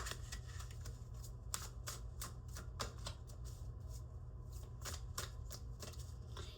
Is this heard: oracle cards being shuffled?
yes